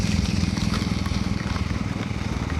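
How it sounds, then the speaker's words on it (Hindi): A Royal Enfield Bullet motorcycle on a long road trip toward Srinagar rolls on engine braking, its single-cylinder thump a rapid, even pulsing close by, under steady wind and road noise. "अभी टोटल अभी इंजन ब्रेकिंग पे चल रही है गाड़ी।"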